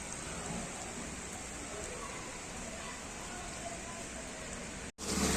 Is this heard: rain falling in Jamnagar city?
yes